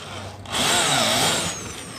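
A power drill whirs for about a second during roof repair work, a sustained mechanical whine that rises and then drops back to a quieter background hum.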